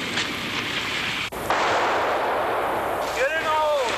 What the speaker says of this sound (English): An artillery barrage is fired to soften up the hill